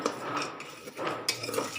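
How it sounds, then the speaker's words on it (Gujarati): A few sharp, sporadic pops and metallic clinks as chickpeas roast inside a closed pressure cooker, fairly close and quiet. "ચણા ફૂટવા મળ્યા છે."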